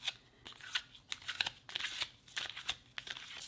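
Tarot cards being spread out across a surface in a close, quiet setting, giving soft papery sliding and crisp flicks in irregular bursts, with no talking.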